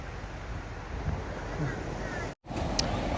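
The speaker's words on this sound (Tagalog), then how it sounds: "lakas ng alon, no?" Steady broadband roar of strong ocean waves crashing on a beach, with wind buffeting the microphone throughout and a brief dropout near the end.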